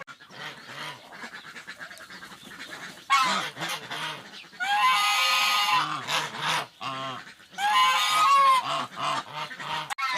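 Domestic geese on a farmstead honk loudly and repeatedly, a noisy overlapping chorus of harsh calls with brief quieter gaps, close by.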